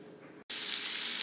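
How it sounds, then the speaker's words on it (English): Onions fry in oil over low heat, a soft sizzle that cuts out for an instant and comes back as a brighter, louder, steady hiss. "I'm frying it on low heat on the oil and onions"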